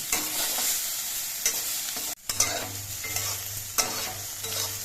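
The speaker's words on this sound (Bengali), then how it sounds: "বেগুনগুলো আমি আলাদা করে ভেজে নিচ্ছি" Steady oil sizzling with eggplant pieces frying in a pan, broken by occasional scrapes and stirs; one brief pause midway.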